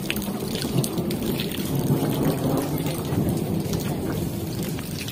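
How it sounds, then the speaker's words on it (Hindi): Steady rain pouring down over fields with a low, continuous rumble of thunder underneath, dense and unbroken throughout. "आकाश में बादल गरज रहे थे और धूप भी लगी थी और बारिश भी।"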